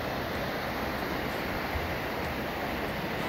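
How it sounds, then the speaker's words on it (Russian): Small mountain waterfalls in a waterfall park rush and bubble in a steady, unbroken broadband roar, close and constant with no voices. "Вот они, водопадики, шумят, бурлят, горные водопадики."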